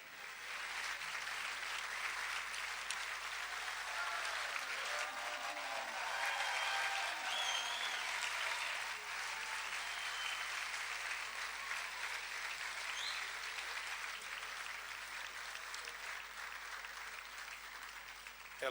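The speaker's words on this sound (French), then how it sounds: "Je voudrais tout de suite inviter notre chère Elvira, que nous saluons par un bel applaudissement." Warm, continuous applause from an assembled audience of the Cenacolo community welcomes Mother Elvira, an even sheet of clapping lasting nearly nineteen seconds at moderate volume, with faint voices mixed in.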